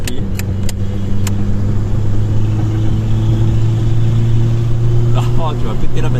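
A Renault 4L car drives around the Marrakech circuit, its steady mid-pitched engine drone running continuously and fairly close, with people talking over it and a few sharp clicks near the start.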